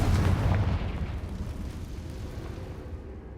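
A Confringo blasting spell explodes in Hogwarts Legacy, a heavy booming blast followed by a long rumbling, fading decay.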